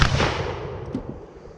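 A musket fired with the original Tower of London 220 grain charge, heard as one loud, sharp blast right at the start that decays into a fading rumble and echo.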